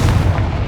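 Confringo spell in Hogwarts Legacy goes off as a single short, deep explosive boom, loud and close.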